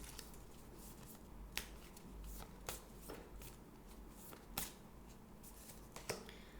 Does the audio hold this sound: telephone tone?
no